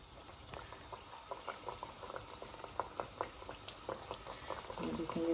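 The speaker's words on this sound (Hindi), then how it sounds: "अब हम इनको फ्राई करते हैं मीडियम टू लो हीट पे" Semolina or wheat-flour tikiyan fry in ghee and oil over medium-to-low heat, giving a soft, steady sizzle with small pops and crackles that build slightly toward the end.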